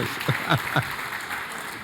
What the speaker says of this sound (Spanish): Desen un aplauso a ustedes mismos.